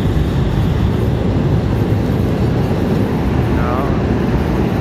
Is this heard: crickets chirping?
no